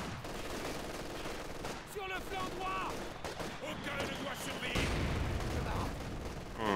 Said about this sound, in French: il lance le lance-flamme là sur la mitrailleuse dans la baraque en bas